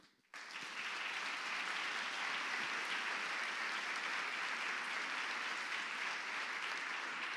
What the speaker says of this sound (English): I hope you heard our applause.